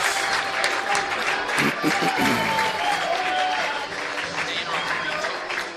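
A baseball crowd applauds and cheers a home run at a Sonoma Stompers game away at the Healdsburg Prune Packers. The sustained, fairly loud outdoor clapping runs under a commentator's voice and fades slightly toward the end.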